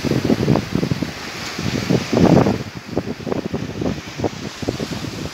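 Gusty wind buffets the microphone on the coast of São Miguel in the Azores under rough sea conditions, rising and falling in loud rushing bursts, with surf or water noise mixed in.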